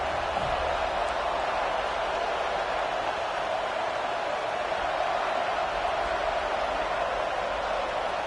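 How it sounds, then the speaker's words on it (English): Steady, dense roar of a large stadium crowd at a playoff football game on second down, loud and continuous throughout with no distinct voices standing out. "This crowd even louder now on 2nd down as they try to hold on."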